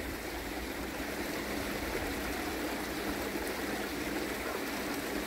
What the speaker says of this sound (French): Une espèce de petite rivière là qui coule.